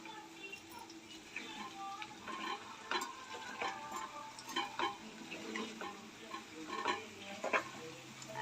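Chicken pickle roasting in hot oil, with irregular sizzling and intermittent scraping and stirring strokes throughout, fairly quiet and close.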